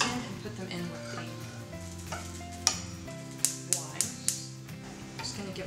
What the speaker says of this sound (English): going to give it a stir